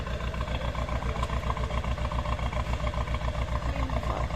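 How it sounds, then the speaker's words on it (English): An old small diesel engine from a Fiat 500 idles with a steady, rapid knocking chug, close and even throughout, with no voices. "That is an old engine out of a Fiat 500 diesel."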